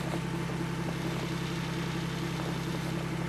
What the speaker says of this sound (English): Got about a half hour more of snow blowing and then we're all done.